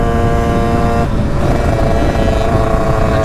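A Derbi motorcycle with a 70cc Metrakit engine runs steadily close by, a loud continuous buzzing drone with strong harmonic tones that holds for the whole stretch with no talk.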